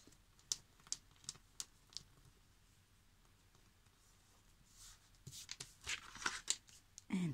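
Sheets of paper folded by hand while making a handmade vintage-style passport and ID: faint, close crinkles and sharp light taps at irregular intervals, growing busier and denser toward the end.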